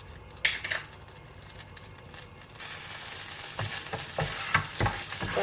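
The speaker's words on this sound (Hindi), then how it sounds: "गार्लिक को अच्छे से सौते कर लेंगे।" Garlic sautéing in melted butter in a pan, a soft sizzle that swells into a loud, steady hiss midway, broken by a few scraping stirs.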